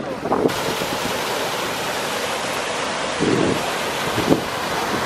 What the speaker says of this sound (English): catch this waterfall though, man